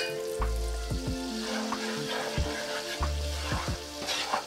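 Butter sizzles in a pan holding the browned drippings left from cooking chicken, a close, steady crackle with repeated low thumps and clanks as it is stirred.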